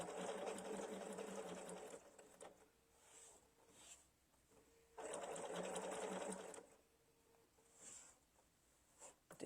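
A sewing machine stitches a mini quilt block in two steady bursts of fast, even motor-driven stitching, separated by quieter pauses with light handling and fabric adjustments.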